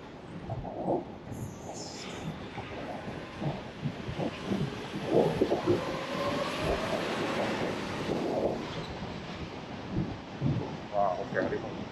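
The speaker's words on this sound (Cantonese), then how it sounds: "啲風聲都好大。" Strong typhoon wind gusting along a city street in Mong Kok, Hong Kong, under a No. 8 signal, a steady loud broadband roar with buffeting on the microphone, people talking over it.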